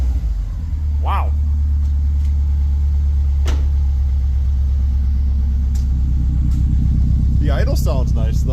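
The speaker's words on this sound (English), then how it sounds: "The idle sounds nice though." A Subaru 2.5RS engine fitted with a WRX header and a muffler idles with a steady, loud, deep rumble close by, while voices talk briefly over it.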